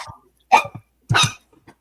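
Dogs bark in short, sharp bursts, about three or four close yaps with brief gaps between them, heard over a home video call.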